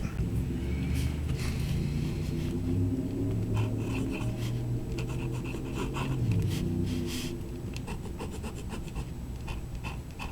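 A Parker 45 Flighter fountain pen with a broad nib moves across paper, giving faint scratchy strokes in short repeated bursts over a low steady background hum.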